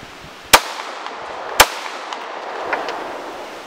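Two sharp, loud handgun shots from a CZ 75 or Glock 19 fired at a target 100 yards away, spaced about a second apart, with faint ambient noise between them.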